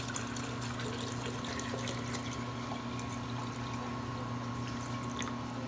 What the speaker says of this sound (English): you want to pour out a quart of water.